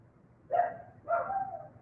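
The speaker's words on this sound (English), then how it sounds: "My puppy is barking," A puppy gives two short, soft barks in quick succession with a hooting, owl-like tone, heard close but at low volume in an otherwise quiet indoor room.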